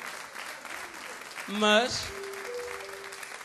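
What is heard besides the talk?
audience applause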